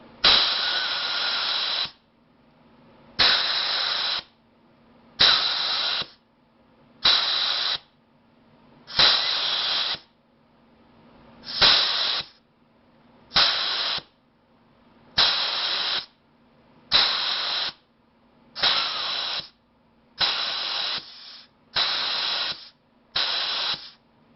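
A spark plug cleaner blasts grit at a spark plug in about a dozen loud, hissing bursts of a second or two each, separated by short quiet pauses, with no talking.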